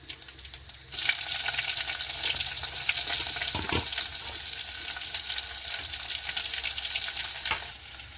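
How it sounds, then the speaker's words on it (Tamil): Sliced onion drops into a hot frying pan for a green bean stir-fry and bursts into a loud, steady sizzle after a quieter second, with one stirring scrape partway through, then the hiss eases slightly near the end. "இப்போ வெங்காயம் வதங்கி கொண்டு வருகுது"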